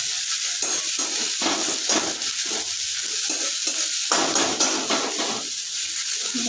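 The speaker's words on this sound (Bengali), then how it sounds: "এর মধ্যে পেঁয়াজ দিলাম। পেঁয়াজগুলো একটু ভাজবো।" Onions frying loudly in a pan with a steady, dense hiss. Rhythmic stirring scrapes run through the hiss, heard up close.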